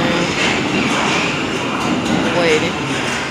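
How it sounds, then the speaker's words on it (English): Local train arriving at Ueno Station in Tokyo, a steady loud rumble of rolling carriages with a faint wheel squeal, under a busy hum of waiting passengers and platform chatter. "The local train bound for Asakusa is arriving"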